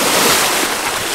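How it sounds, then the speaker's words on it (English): Steady wind and rushing water surround a sailboat moving along the coast in about 10 knots of wind, a broad continuous roar with microphone buffeting, no voices. "We've got 10 knots of wind"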